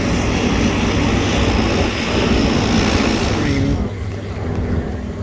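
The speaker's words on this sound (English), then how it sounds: "The hydroplane." A seaplane flies over a canal in Copenhagen, its propeller engine a loud, continuous broad roar that fades slightly near the end, heard from a canal tour boat.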